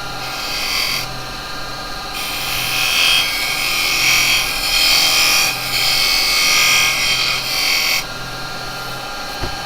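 A small spindle gouge cutting wood on a turning lathe gives a loud, continuous hissing shave that swells and drops in long passes, over the steady hum of the spinning machine.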